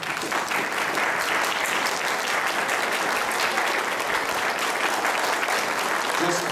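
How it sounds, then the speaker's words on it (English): Crowd applause for standing parents and guardians at an evening academic competition, a continuous, even roar of many hands clapping in a large hall, unbroken for several seconds. "would you stand so we can give you a round of applause?"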